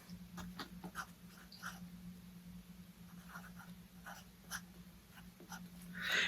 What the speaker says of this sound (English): So now we're going to label this back. I'll use my blue pencil.